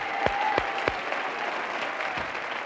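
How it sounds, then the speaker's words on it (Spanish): A theater audience claps at a ventriloquist's comedy show, a sustained burst of applause with a few sharper individual claps near the start, steady and fairly close, with no talk over it. "Un aplauso grande."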